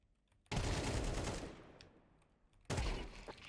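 Gunfire in the video game Counter-Strike 2: a loud, sustained burst of automatic fire that tails off, then a second sharp burst starts, heard close with no talk over it.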